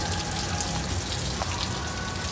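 A tap runs steadily, its water making a constant soft splashing hiss with light pattering, moderately close and uninterrupted.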